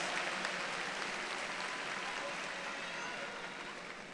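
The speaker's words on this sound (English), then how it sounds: "Give them a round of applause" A large crowd at a university commencement ceremony gives a sustained round of applause, a steady dense roar of distant clapping that fades slightly toward the end.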